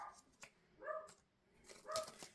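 A dog gives a few short barks, quiet and somewhat distant in an indoor setting, two clearer yips standing out among faint room noise.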